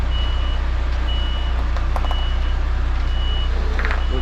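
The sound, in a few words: reversing beeps of truck reversing in tight space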